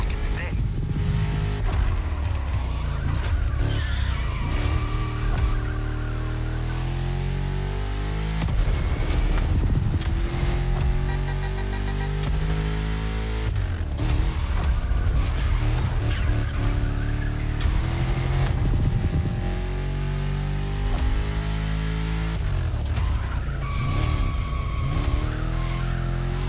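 Racing cars in The Crew Motorfest roar and rev continuously while tires squeal in repeated skids through corners, with loud, dense engine noise and brief bursts of screeching rubber throughout.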